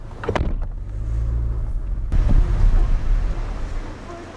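Peugeot 306 Rally hatchback pottering around town, its engine note rising and falling at low speed with road and wind rumble heard from inside the cabin; a brief thump near the start.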